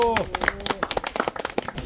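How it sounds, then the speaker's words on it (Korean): Audience of hikers clapping at a mountain-trail memorial rite, a short burst of quick claps mixed with overlapping voices. "박수"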